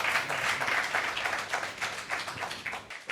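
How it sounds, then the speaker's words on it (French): A studio audience at an evening variety show on stage applauds, a dense, steady wash of clapping that holds for a few seconds. "On t'applaudit très fort."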